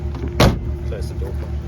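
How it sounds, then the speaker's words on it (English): A 1951 Kaiser Deluxe car door shuts with a single solid, close thump amid low engine idle, with someone speaking faintly in the background. "Close the door."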